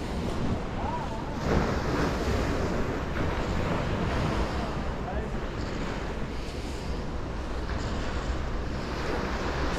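Big swell breaking on a beach at high tide, a steady broadband roar of surf with wind buffeting the microphone, continuous and fairly loud for the whole stretch.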